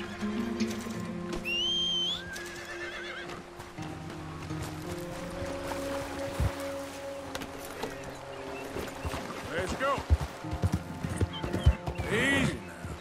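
Horse hooves clip-clopping in Red Dead Redemption II, with a whinny and water splashes, steady across the clip and more irregular near the end, mixed with game music and someone talking over it.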